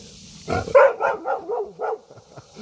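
A dog on a houseboat deck barks in a quick series of about five close, loud yips and barks, excited and agitated, with no talking over them.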